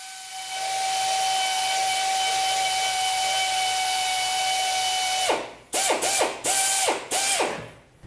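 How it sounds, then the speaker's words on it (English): A power drill runs steadily and loudly while drilling pilot holes at punch marks on a vehicle's door sill, then breaks into several short stuttering bursts that drop and recover in pitch as the bit works through the metal. "Just drill a pilot hole in each one of the punch marks."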